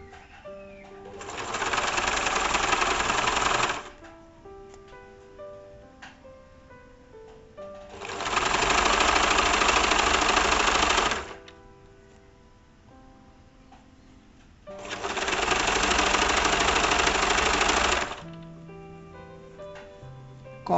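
A sewing machine runs a small straight stitch through fabric in three bursts of about three seconds each, a rapid whirring chatter with short quiet pauses between runs, close and clear with no voices.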